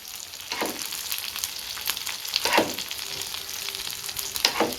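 Masala-coated fish fries in oil over a low to medium flame, a soft continuous sizzle broken by a few sharper crackling spurts, close and quiet with no talking.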